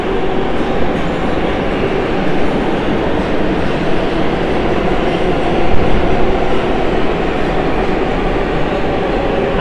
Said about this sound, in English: So my train is here.